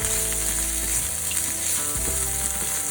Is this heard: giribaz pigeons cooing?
no